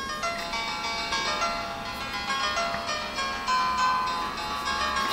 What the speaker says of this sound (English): I'll let you listen to them real quickly because they're actually really good